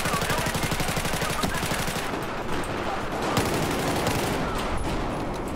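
Rapid automatic gunfire in the shooter game Battlefield 4, dense, loud rattling bursts with rhythmic shots, close and continuous, with some voice briefly mixed in.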